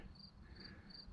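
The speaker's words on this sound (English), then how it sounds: "I can hear the crickets." Crickets chirp in short, evenly spaced bursts, three of them, faint against a low rumbling background hum along an old pavement stretch of the Old Vantage Highway.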